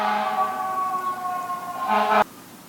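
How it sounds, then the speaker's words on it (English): An emergency vehicle siren wails loudly and steadily in a passing sweep, its held tones continuing for about two seconds before cutting off abruptly. "I wanted to just edit out the siren, or as much of it as I could"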